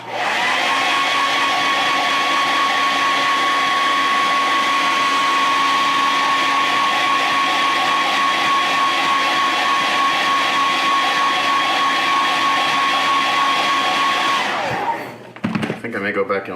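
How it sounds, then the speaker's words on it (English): A hair dryer, used on a 1/4-scale custom Hellboy figure, blows steadily with a high whine for most of the clip, then shuts off and winds down, followed by a few clunks. "I'm gonna hit this with a hairdryer real quick."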